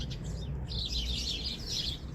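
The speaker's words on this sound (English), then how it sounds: "I don't know what you would call a colony or a army of robin birds" Robins chirp outdoors under blue skies, quick bright bursts of tweeting repeating over a low steady background rumble, moderately close with no talk.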